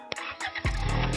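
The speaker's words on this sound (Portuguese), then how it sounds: "Vamos dar partida no bichão" A lowered Chevette in a Brazilian car game cranks over with a few short clicks and whirs, then catches into a deep, steady idling rumble.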